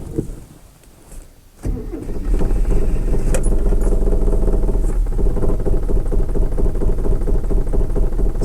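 A Mitsubishi Mighty Max pickup truck engine cranks and catches after a quiet start, then settles into a loud, steady, slightly rough idle close by that holds for several seconds.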